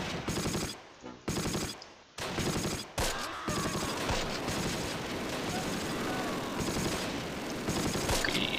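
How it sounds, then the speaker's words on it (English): Rapid machine gun bursts crackle in the WWII strategy game Close Combat: Last Stand Arnhem, several short loud volleys separated by gaps, then a sustained stretch of continuous automatic fire with scattered shots layered over it. "Jeez, they've still got an MG back here somewhere."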